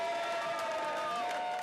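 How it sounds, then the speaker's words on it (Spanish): Supporters cheer and shout in a steady crowd roar as Peter Pellegrini, elected president of Slovakia, makes his entrance; the sound is continuous and even throughout, with a faint tonal chant or horn running beneath. "Una entrada bajo los aplausos de sus seguidores."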